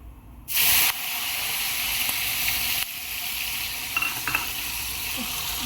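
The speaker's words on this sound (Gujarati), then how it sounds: "તો આપણે એનો વઘાર કરી દઈએ." Tempering for a Gujarati green chickpea curry hits hot oil with a sudden loud burst of sizzle, then settles into a steady hiss with small pops and light stirring, close by and with no speech.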